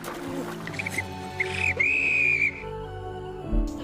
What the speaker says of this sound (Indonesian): tim evakuasi mendengar suara peluit yang ditiup oleh Rose